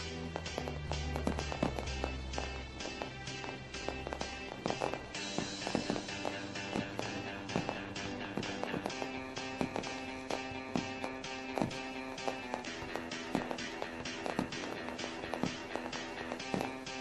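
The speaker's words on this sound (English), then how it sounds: "Lone Wolf Fireworks light up the sky." Fireworks burst over a sprint car race track after a 360 sprint race, a steady run of sharp cracks and pops at varying distances over a busy, dense background.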